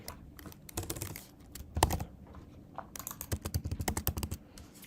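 Code being typed on a computer keyboard, bursts of quick close key clicks with short pauses between runs, a fast even patter near the end, no voice.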